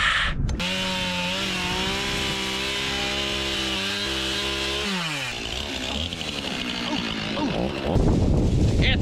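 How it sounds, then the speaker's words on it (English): A chainsaw cuts through brush outdoors on a windy day while an abandoned 1959 Chevy is being cleared out. The engine snarls steadily up close, its pitch rising and dipping as it bites and revs, with rough wind noise underneath. "I don't even know why I brought a chainsaw."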